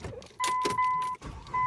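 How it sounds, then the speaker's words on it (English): A 2009 Dodge Journey engine cranks with short whirring bursts and catches, starting within under two seconds; the sound is close, fairly faint and choppy, with no talking. "Now it cranks right up."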